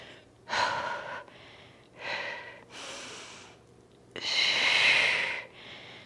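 Heavy, effortful breaths during a dumbbell workout in a steady pattern of loud exhales and inhales, close up, with short pauses between each breath.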